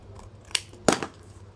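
Scissors snip through paper tag corners while making a bohemian craft masterboard: two quick, crisp cuts close by, the second louder, with near silence around them.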